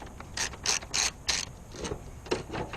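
Ratchet wrench loosening the last headlamp assembly bolt on a 1996-2005 GMC Safari van, with several quick bursts of sharp, close pawl clicking separated by short pauses and no talk.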